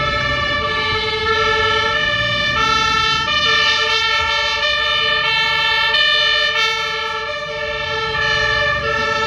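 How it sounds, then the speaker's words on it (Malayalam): An emergency vehicle siren wails loudly and continuously close by on a road in Germany, its tone shifting in steps over several seconds. "സൈറൺ ഇട്ടു."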